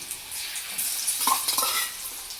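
Soybean chunks frying and being stirred in a pan for a homemade soybean chili, giving a steady bright sizzle with scraping stirs and light clinks of a utensil against the pan, close and unbroken with no voices.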